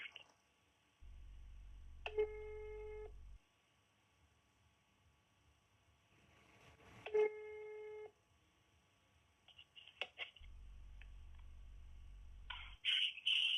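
A telephone line cycles through long low buzzing busy tones broken by sharp beeping dial signals and short electronic chirps, repeating twice over quiet line hiss, with no voices.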